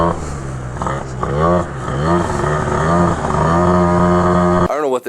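A 94cc Malossi RC One kit on a Derbi GP1 two-stroke scooter runs and revs unevenly after a carb cleaning, its buzzing engine note rising and falling close by, then cutting out abruptly near the end.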